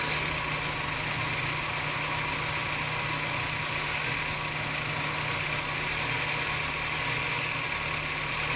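A rough-idling Mazda Miata MX-5 engine runs continuously with a dense rumbling drone and no speech.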